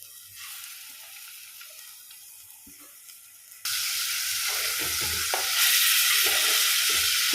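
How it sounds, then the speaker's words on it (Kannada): Chili-and-salt marinated fish pieces, firm-fleshed, fry in a pan; a soft sizzle jumps abruptly to a louder, steady crackling hiss partway through, with faint clinks of handling. "ಈಗ ನಾವು ಮೆಣಸು ಮತ್ತು ಉಪ್ಪೆಲ್ಲ ಹಾಕಿಟ್ಟ ಮೀನನ್ನು ಸ್ವಲ್ಪ ಫ್ರೈ ಮಾಡುವ"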